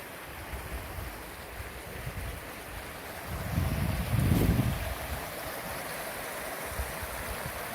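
Water in a small creek flows along a walking trail in a steady, soft wash that swells briefly louder near the middle before settling back. No one speaks.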